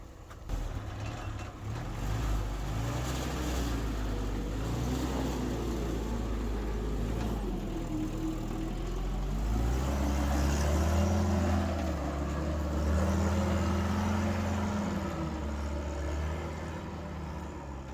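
Classic Jeep engine labors up a hump on the Double Sammy off-road trail in January, a steady low rumble that rises and swells in revs midway, close and continuous with no talk.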